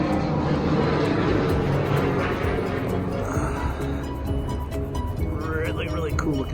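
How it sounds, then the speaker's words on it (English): A low, steady broadband roar of an airplane passing overhead fills the background at a luxury car show walk in Newport Beach, with people talking throughout. "there's an airplane coming over"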